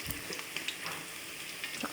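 Tongkol fish frying in hot oil for balado, a steady soft sizzle and crackle with small pops, close and continuous without talk.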